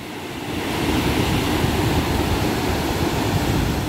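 Surf washing onto a beach at Ganpatipule, a steady broad roar of breaking sea waves with wind mixed in, close and continuous with no voices.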